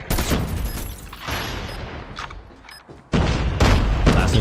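Grenade blast and rapid gunfire in the mobile shooter Call of Duty Mobile, loud and dense bursts with a brief lull before a heavy explosion and renewed shooting near the end.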